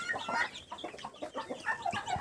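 A broody crested hen clucks in a farmyard, a string of short, uneven clucks close by, rising and falling in loudness over a couple of seconds with no voices.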